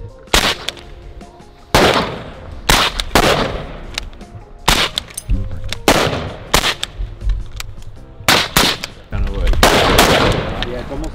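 Rifle shots at a firearms training session, loud sharp cracks fired singly and in quick pairs with pauses between, over outdoor background noise.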